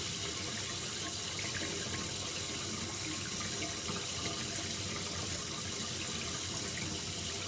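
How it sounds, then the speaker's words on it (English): A tap runs steadily into a bathroom sink during a wet shave, a constant close gushing rush of water with no pauses and no voices. "leave the water running like that."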